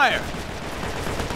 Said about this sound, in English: Sounds like hostile fire.